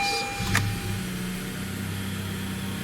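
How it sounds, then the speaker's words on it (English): Tenth-generation Honda Civic engine cranking into life with a short whirring start, then settling into a steady low idle hum close by, no talking. "I'll turn the engine on now and see what happens"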